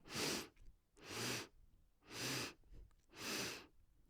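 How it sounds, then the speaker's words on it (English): A person inhales through the nose in four short, evenly spaced sniffs during a breathing exercise, each breath close and distinct with brief pauses between, no talking. "it's like having 4 sniffs, or it'll sound that way. So the inhale will sound like"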